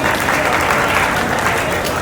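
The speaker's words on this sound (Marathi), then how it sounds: "टाळ्या वाजवून सांगणार" An audience at a state-level award ceremony in Nashik claps loudly and continuously, a dense wash of applause from a crowd close by with no pauses.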